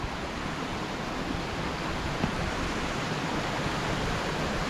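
Burbage Brook flowing through Padley Gorge in the Peak District, a steady broadband rush of moving water that holds an even level throughout, close by and with no voices.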